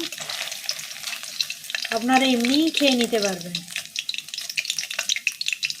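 Paneer pakoras sizzling and crackling in hot oil, with a person speaking briefly in the middle over the frying.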